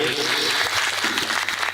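Applause from an audience at a village Ramcharitmanas recital, rising for the lead female singer, a steady broad wash of clapping lasting under two seconds with faint voices mixed in.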